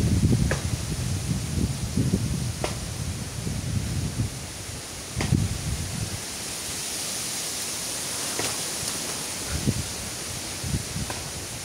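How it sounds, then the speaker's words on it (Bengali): Strong wind blows through trees in a rural outdoor setting, a continuous broad rush with gusts and rustling leaves, plus low rumbling buffets of wind hitting the microphone, and no talking. "দেখেন কি পরিমাণ বাতাস শুরু হয়ে গেল।"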